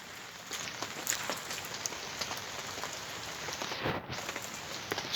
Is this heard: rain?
yes